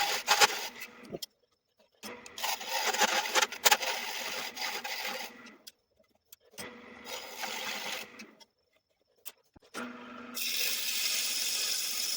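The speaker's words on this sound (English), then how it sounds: "Now here I'm just cutting a tenon on the bottom so that I can flip this around and put it in a chuck." Wood lathe turning a tenon on the bottom of a 2x4 blank for a chuck: bursts of steady tool-on-wood cutting noise, several passes of a few seconds each separated by brief silences, close and fairly loud.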